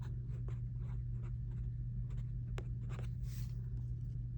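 Numbers written by hand with a pen on paper while adding large figures: faint, intermittent scratchy strokes over a steady low hum, with no talking.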